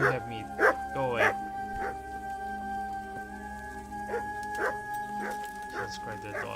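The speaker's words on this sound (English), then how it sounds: "I hope the dog stops barking because it's getting annoying" Repeated barks and yips from a dog in Kingdom Come: Deliverance come in irregular bursts over a steady hum of game sound, close and fairly loud.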